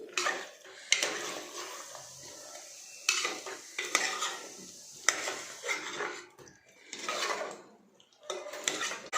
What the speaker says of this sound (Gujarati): જે બટાકી લીધી છે તે નાખીશું અને વટાણા નાખીશું બરાબર મિક્સ કરીશું